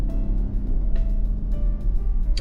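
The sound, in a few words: car engine running, Saab or Mercedes-Benz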